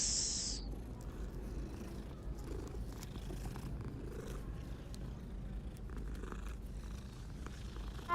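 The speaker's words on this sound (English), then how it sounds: "Cats." Cats purring in Hogwarts Legacy, a soft continuous low rumbling purr that stays faint and steady throughout, with a brief high tone at the very start.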